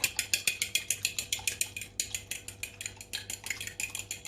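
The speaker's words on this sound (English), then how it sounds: "give your eggs a little whisk with your fork" Fork whisking eggs in a bowl while making fresh fettuccine pasta dough, a quick, steady run of light clinking metal-on-bowl taps, close and fairly quiet, with no talking.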